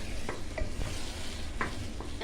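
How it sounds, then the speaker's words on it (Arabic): Carrot halwa being stirred in a pan, with soft scraping strokes and a faint sizzle running steadily underneath, close and fairly quiet, with no talking. "هسه حبايبي نظل نقلب بيه"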